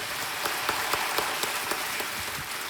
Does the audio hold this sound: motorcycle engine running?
no